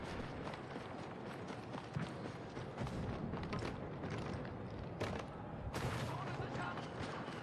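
Gunfire in Star Wars Battlefront II, a steady stream of blaster shots and bursts rattling through a dense, busy battle din at moderate level, with sharper volleys standing out near the end.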